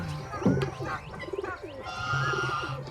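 A racing pigeon coos close by, a few soft throaty rolling calls with light fluttering and faint background noise between them.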